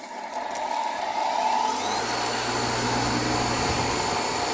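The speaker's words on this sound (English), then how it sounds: "slide it up and down just a little bit while the machine's spinning to help brighten up those pads" A Gold Medal Whirlwind cotton candy machine spins up with its cleaning pads in, giving a steady, loud mechanical whir that builds and then holds an even hum with no voices.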